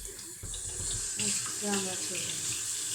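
Tap water runs steadily into a sink as hands are washed, a close continuous splashing hiss with someone speaking Turkish partly over it.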